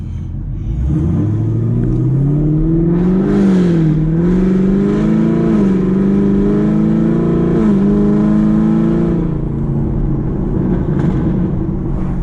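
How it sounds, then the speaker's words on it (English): A 2021 Chevrolet Camaro SS V8 revs at light quarter throttle, its exhaust rising into a loud, deep rumbling drone that swells and holds for several seconds before dropping back, close and steady with no talking. "we got a little bit of exhaust clips for y'all"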